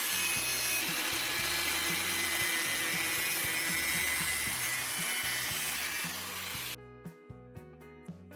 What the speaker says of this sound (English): I secured the white pipe in a vise and carefully cut it open along the marked line